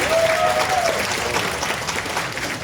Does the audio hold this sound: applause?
yes